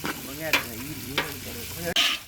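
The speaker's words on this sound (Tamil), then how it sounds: "வெங்காயம் நேரத்துக்கு வேணும் பொறிக்கணும்" Onions frying and being stirred in a pan for a large feast with friends, a steady close sizzle broken by scraping strokes of a spoon.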